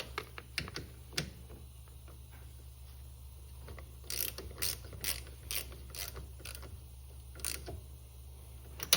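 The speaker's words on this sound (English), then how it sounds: "And we'll tighten the bottom bolt as well." Ratchet clicking in short bursts as the bottom brake caliper bolt is tightened on a 2024 CFMOTO ZFORCE 950 side-by-side, close and fairly quiet over a low steady hum, with a few sharper metallic clicks near the end.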